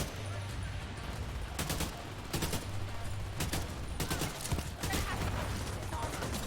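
Short bursts of automatic gunfire in the shooter game The Division 2, several clusters of rapid shots spread across the scene over a steady low rumble and background game noise.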